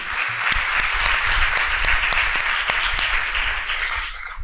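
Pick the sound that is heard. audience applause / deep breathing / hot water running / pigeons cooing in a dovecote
audience applause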